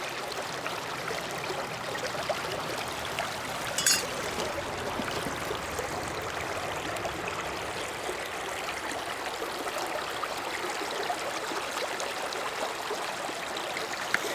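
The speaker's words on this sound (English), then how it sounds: "That rolling Kettle River, or Kettle River rolling." The Kettle River flows steadily, a constant broad rushing of water heard close and alone, with a brief clatter partway through.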